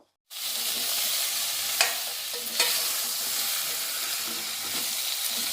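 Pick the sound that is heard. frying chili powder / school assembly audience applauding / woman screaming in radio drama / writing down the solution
frying chili powder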